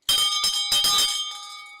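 A hand bell rings in several rapid bright clangs close by, then its metallic tone rings on and fades, with no voices.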